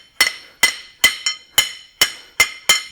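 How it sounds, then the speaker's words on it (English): A blacksmith hammers hot steel to forge a flared end, giving seven sharp, ringing metallic strikes close up at a steady rhythm, with one lighter rebound tap between two of them and no talk. "So we just keep continuing forging the flare until we get the desired"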